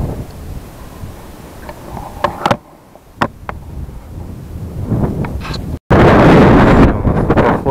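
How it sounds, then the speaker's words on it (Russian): Gusty wind of an approaching storm buffets the microphone outdoors on a rural plot, roaring in uneven surges with a few brief knocks and a loud blast near the end. "Шторм надвигается."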